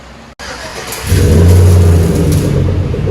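A Chevy Silverado 5.3L V8 with a Flowmaster 44 series exhaust idles briefly, then revs up into a loud, deep, steady rumble that holds to the end, heard close by.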